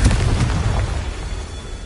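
A Confringo explosive spell going off in Hogwarts Legacy, one loud booming burst at the start that rolls off into a fading rumble, with no voices.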